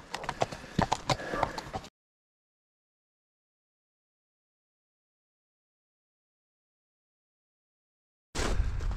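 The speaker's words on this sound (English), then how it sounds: "Horses." Horses walking along the Three Rocks trail give a brief run of close hoof clip-clops, then fall silent for several seconds before the sound returns at the very end.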